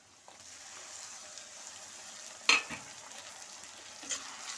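Chopped tomatoes are stirred into fried onions in a pan for a beans curry: a soft, steady sizzle runs underneath, with one sharp spatula scrape and a lighter knock later on.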